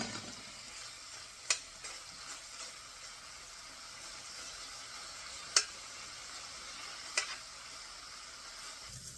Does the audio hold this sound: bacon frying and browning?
yes